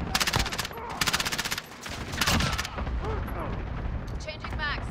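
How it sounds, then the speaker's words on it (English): Heavy gunfire and explosions in Call of Duty Modern Warfare during a cluster strike: rapid bursts of shots early on, then a dense rumbling barrage of blasts and crackling fire, loud and continuous, with a voice speaking under the din. "Allied cluster strike inbound."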